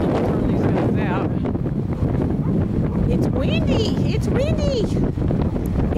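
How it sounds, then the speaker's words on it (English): Strong wind roars steadily outdoors where horses and burros are kept, buffeting the microphone nonstop. Brief animal calls and a voice come through under the gusts. "Really crazy windy out here"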